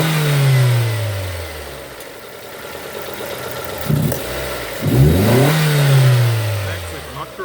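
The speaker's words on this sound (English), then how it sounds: "If I rev, it's supposed to go" A 2002 Nissan Almera N16 with a cable-throttle QG18 engine and a faulty O2 sensor revs up and falls back several times, its pitch rising and dropping in clear sweeps. The sound is close and loud, and someone talks over it.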